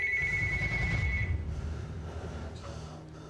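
A telephone rings with a clear electronic tone for about a second, then fades, leaving a low rumble and a faint beep afterward.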